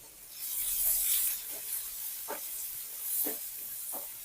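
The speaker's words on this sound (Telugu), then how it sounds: "ఉల్లిపాయ కట్ చేసి పెట్టాం కదా అవి వేసుకుంటున్నాం ఇప్పుడు పసుపు వేసుకుంటున్నామండి మొత్తం మనం వేయించుకుందాం ఇప్పుడు" Chopped onions and turmeric frying in hot oil for a tempering, a steady airy hiss with a few soft scraping stirs, close and moderately loud with no talking.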